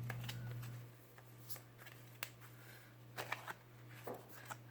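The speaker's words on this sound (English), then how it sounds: "let's go ahead and pull the indicator cards" Tarot cards shuffled and drawn in a psychic astrology reading, with soft papery riffles and flicks scattered irregularly at close range over a steady low hum, no talking.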